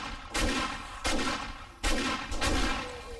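Three heavy shotgun blasts in the zombie survival game 7 Days to Die, loud and evenly spaced about a second apart, each with a booming tail and no talk.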